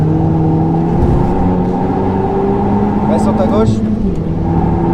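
Renault Mégane 4 RS Trophy-R accelerating on a racing circuit, a steady loud engine drone rising in pitch from inside the car, with a person talking over it throughout.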